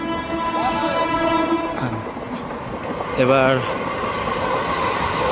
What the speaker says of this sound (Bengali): ট্রেনের আওয়াজটা পাচ্ছ তোমরা, তাই না?